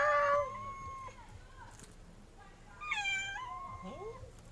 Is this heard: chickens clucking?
no